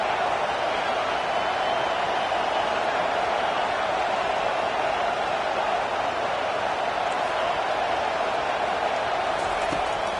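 Steady, dense roar of a home crowd at a college football game in the stands, loud and continuous throughout with no breaks or distinct voices standing out.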